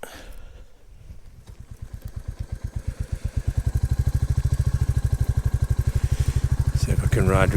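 A Royal Enfield Classic 350 motorcycle pulls away and builds speed on a ride, its single-cylinder thump growing louder and faster into a steady, close, rhythmic beat.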